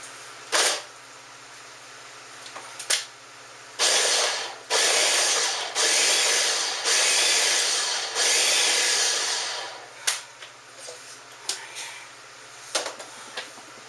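A blender whirs through chili ingredients in a home kitchen, running in several loud pulsed bursts of a few seconds each with short quiet pauses between.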